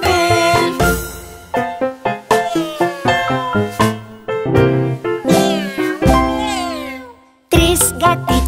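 Repeated meowing in a lively children's song, probably sung voices imitating a cat rather than a real animal. The meows come as a rapid series of short, bright calls over bouncy music.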